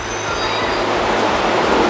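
Crowded Japanese commuter train near Akihabara, a loud steady rumble of wheels and motor with a faint high whine, close and continuous.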